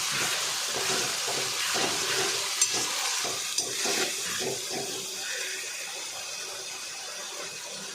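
Chicken with spices frying in a pan while being stirred, a steady sizzle with scraping stir strokes and a couple of sharp clinks, heard close and alone without talk.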